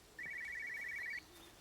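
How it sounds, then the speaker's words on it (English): An old business telephone rings in the video game Everybody's Gone to the Rapture, a bright, fast warbling trill lasting about a second over quiet ambience, followed by a faint low tone. "Oh, there's the ringing."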